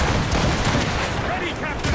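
Ship cannons in Assassin's Creed Rogue fire in a dense, continuous barrage of booming blasts during a naval battle, loud and chaotic, with shouting voices mixed in.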